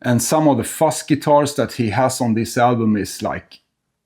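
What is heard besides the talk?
No everyday noises stand out.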